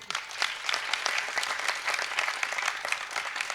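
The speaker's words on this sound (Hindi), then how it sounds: "आप सभी ताली वादन करें" Steady applause from a crowd at a Hindu devotional performance, many hands clapping continuously at a fairly even level throughout, with no talking.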